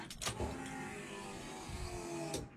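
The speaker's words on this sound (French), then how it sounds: "On va mettre le contact. Voilà, donc normalement ça doit fonctionner." A Range Rover V8 build with newly fitted fuel injection has its ignition switched on, and the fuel system primes with a steady electric whirring hum up close for about two and a half seconds. No one speaks.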